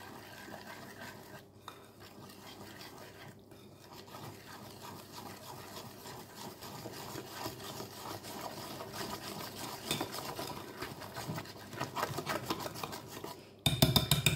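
Cake batter being stirred and mixed in a bowl with a utensil, a soft continuous scraping and rubbing close up that grows busier and louder toward the end.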